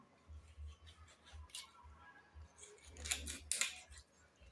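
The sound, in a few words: cutting a catfish into pieces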